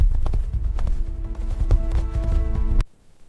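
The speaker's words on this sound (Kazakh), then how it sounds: "Тұяқ жерді тепкіледі" Horse hooves thud in quick, uneven beats on open steppe ground during a race, loud and close over a sustained musical tone, then cutting off abruptly near the end.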